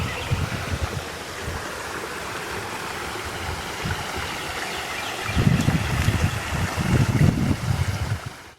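Creek water rushes steadily over rocks nearby, a continuous broad wash of flowing sound that thickens into louder, churning surges toward the end.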